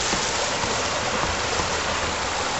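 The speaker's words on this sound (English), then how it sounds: "the background noise. It's the river. It's quite high right now." A high river rushes close by in a dense, continuous broadband roar, steady and loud with no pauses or voices.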